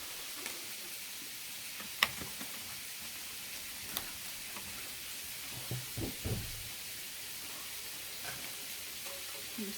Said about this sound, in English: And stir this, and it just really helps to get the cheese mixed in, and it makes this a more smoother sauce